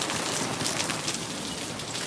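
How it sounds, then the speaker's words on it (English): Heavy rain pours steadily onto a Tokyo street in Ikebukuro, a dense continuous hiss of drops striking pavement and surfaces close by, with no voices over it. "it's raining really hard"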